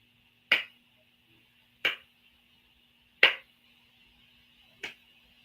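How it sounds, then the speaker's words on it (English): Four slow, sharp claps spaced more than a second apart in a quiet room, each a crisp isolated smack with a short decay, in the manner of a sarcastic golf clap. "Golf clap for the comment."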